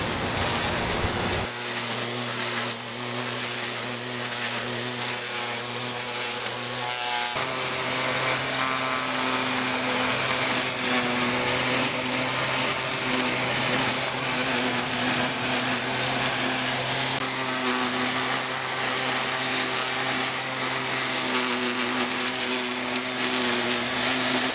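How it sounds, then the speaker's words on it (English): A string trimmer cutting back regrown grass in a native flower bed, droning loud and continuous with a shifting motor pitch and a brief change in load early on. "take my trimmer again and get rid of"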